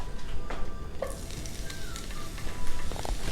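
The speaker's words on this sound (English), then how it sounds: "now I'm gonna put in my shallots" Shallots dropped into hot oil in a pan for chicken enchiladas, giving a steady crackling sizzle with a few spoon scrapes and stirring clinks, close and continuous.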